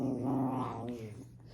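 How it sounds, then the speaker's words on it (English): A pet dog named Tartar growls and grumbles close by in a domestic room, a low rumbling vocal sound running steadily for a second or so before fading, with no talk over it. "I'm sorry if you can hear my dog"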